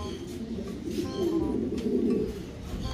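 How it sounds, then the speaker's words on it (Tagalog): Pigeons coo in a loft where checkered racing birds are kept, a steady low murmuring that carries on throughout, fairly close and continuous. "Yan, nagta-try-bar po yung ibon."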